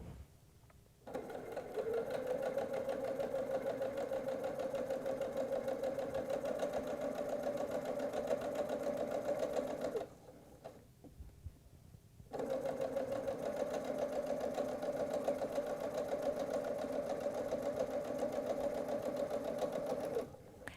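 Close up, a sewing machine steadily stitches quilt fabric pieces for a nine patch apron in two long, even runs, with a short pause between them.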